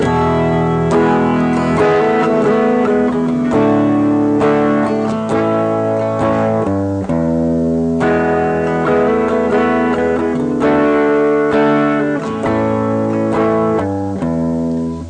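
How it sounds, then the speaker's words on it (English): Electric guitar strums through a chord progression, chords changing every second or so with a bright, slightly distorted tone, steady and prominent throughout. "I'll play the chord progression that's in my mind first."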